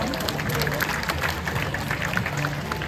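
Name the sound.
audience applause for a tiger at a show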